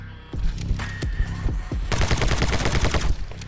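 Rapid bursts of gunfire in the video game My Friend Pedro, loud and close, with quick repeated shots building into a dense, continuous volley in the second half.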